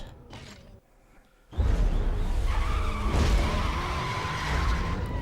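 Racing cars in Need for Speed: Most Wanted 2005 on PS2, with a brief quieter engine passage giving way to a loud close surge of engines, skidding tires and squealing that holds steady to the end, no voices.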